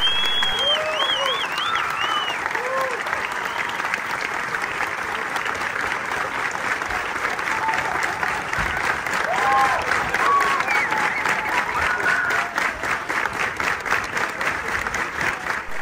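A crowd at a village celebration claps loudly and steadily for about fifteen seconds, with some whistles and voices rising through the applause, following the announcement that a Dongaria man has won.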